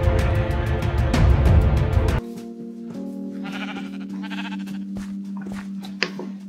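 Blocky sheep in Minecraft bleat in several short repeated calls, one clear bleat first under game music, then softer bleats continuing over a steady background tone.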